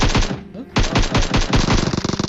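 Rapid automatic gunfire rattles in a shooter video game, loud and close, in dense repeated bursts with one brief pause before the shots resume.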